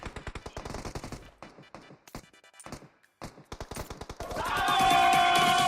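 Automatic gunfire aimed at the player in a video game: rapid rhythmic bursts of close shots with brief pauses, then a louder, denser stretch of continuous firing toward the end.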